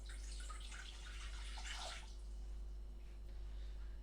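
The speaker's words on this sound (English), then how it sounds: "we're going to be adding 250 millilitres of water" Tap water, 250 millilitres for churros dough, pours in a steady splashing stream for about two seconds, then fades to a quieter trickle over a constant low electrical hum.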